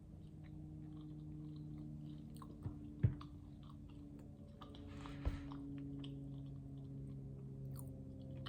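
Soft, close chewing of a Crumbl cookie topped with marshmallow, quiet mouth sounds with a few sharper crunchy clicks over a low steady background hum.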